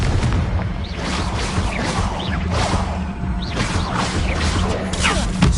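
Confringo fire spell blasts in the wizarding game Hogwarts Legacy: repeated booming, crackling bursts with whooshing swells roll continuously over a low rumble, loud and close, with no clear talk.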